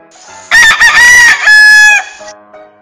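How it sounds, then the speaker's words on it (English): A rooster tied to a peg at home crows once, loud and close, a single drawn-out cock-a-doodle-doo lasting about a second and a half against an otherwise quiet background. "The chicken flapped its wings and then crowed."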